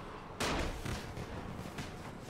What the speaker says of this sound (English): Let's toss a firecracker